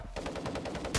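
Rapid automatic gunfire in a shooter game, a quick burst of repeated shots at even rhythm, moderately loud, ending in a louder blast.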